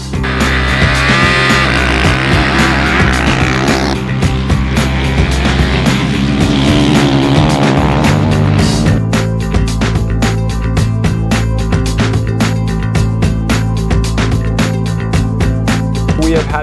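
A 2023 Honda CRF450R motocross bike being ridden, its engine loud and close, revving and rising in pitch with rapid throttle blips and a steady buzzing drone throughout.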